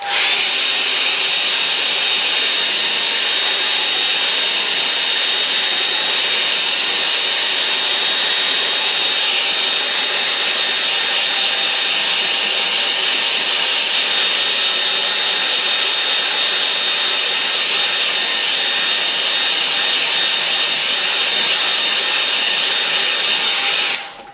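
A hair dryer blows on a watercolour painting, a steady loud whirring rush that runs unbroken for about twenty-four seconds with a faint high whine on top, alone with no voices.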